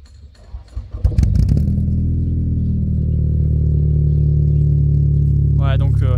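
A Toyota Celica T16 engine cranks briefly, catches and settles into a loud, steady rumbling idle with rising throttle, close by, with a voice briefly heard near the end.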